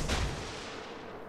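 Naval guns firing in the World of Warships game, a single muffled boom that decays quickly into a low rumble, moderately faint.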